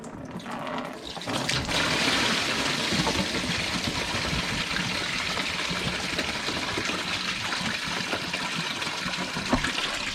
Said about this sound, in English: I'm gonna drain the water to get the intake manifold off